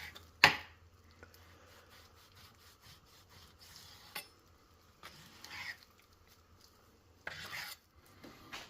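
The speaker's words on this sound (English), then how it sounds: "And now I'm just going to slice this pork off." A knife slices pork off the bone with intermittent rasping strokes, scraping and rubbing against meat and bone in short separate bursts. A sharp knock opens the sequence and quiet pauses fall between cuts.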